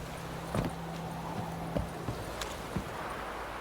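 Hooves of the horse Roach in The Witcher 3 clip-clop at a slow walk, a few spaced thuds over a steady game ambience.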